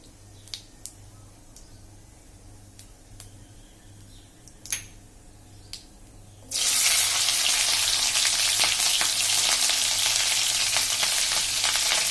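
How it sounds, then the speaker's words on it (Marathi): Green chillies hit hot oil with cumin seeds, bursting into a loud, steady sizzle after several seconds of quiet clicks and taps. The frying stays dense and continuous to the end, with no talking. "जिरं छान तळपल्यानंतर आपण त्याच्यात मिरची टाकायची आहे"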